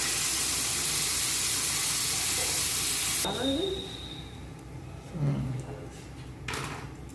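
Water poured over a sizzling paste of ground white and black mustard in a pan, giving a loud, continuous hiss that cuts off sharply, then quieter bubbling with a brief voice in the background.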